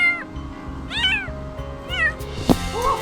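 Kitten meowing during a rescue high up, several rising and falling meows spaced across a few seconds, clear and fairly close over background music, with a sharp knock partway through.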